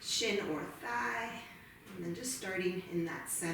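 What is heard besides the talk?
No distinct noise like a dog, phone or traffic.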